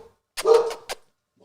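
A puppy lets out a short burst of barks and yips, a close, sharp cluster of about three quick calls against otherwise quiet surroundings.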